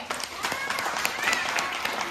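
Applause from an audience of children and adults at a school alphabet celebration, steady dense clapping filling the short stretch at moderate level, with some voices mixed in.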